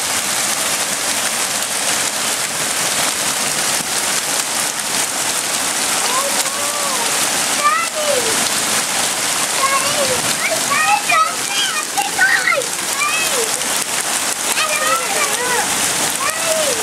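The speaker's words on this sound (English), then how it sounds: "It's flooding Elaine's house." Floodwater splashes and rushes steadily around a house, with continuous watery noise and spattering. Children's voices are heard through it.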